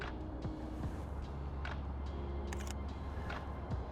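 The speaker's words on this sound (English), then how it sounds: "I'm gonna have to take a photo" A camera shutter fires outdoors during a snowy photo shoot, set to a fast 1/320-second speed, giving a quick crisp click over steady low traffic and wind rumble.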